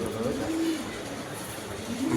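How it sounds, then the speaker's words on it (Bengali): A female pied show-quality pigeon coos close by in a cage, soft low throaty calls rising and falling over a quiet background. "দেখেন এত সুন্দর একটা মাদি কবুতর পাই ড্রেসার"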